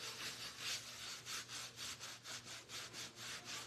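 A wax transfer being rubbed onto a butterfly, a quiet rhythmic scrubbing with about a dozen even back-and-forth strokes, close and alone.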